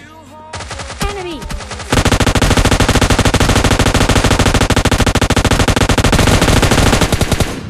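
Rapid automatic gunfire from PUBG Mobile Lite, starting with a few scattered shots and then becoming a long, loud, continuous burst that runs to the end.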